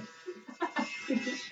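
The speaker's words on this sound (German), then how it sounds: "Schafft er das überhaupt, der Rasierer?" An electric razor buzzes steadily while cutting hair down to a 6mm crop, close and continuous, with a voice talking softly over it.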